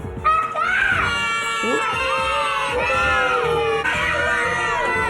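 A spirited three-year-old screams over and over in shrill, piercing bursts that rise and fall, loud and close, with no pause between outbursts.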